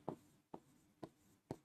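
Marker or chalk writing on a board during a classroom biology lesson: four short, quiet scratching strokes fall at an even pace, each about half a second apart, with no speech.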